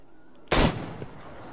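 A single pistol shot in the video game Metro Exodus, one loud, close, sharp crack with a short, fading tail.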